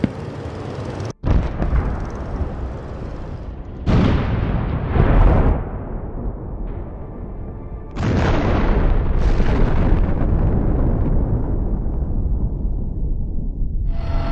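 An armored personnel carrier strikes a mine in a war zone with a massive Russian assault underway, heavy booming explosions erupting in several loud bursts and rolling away into long, decaying rumbles.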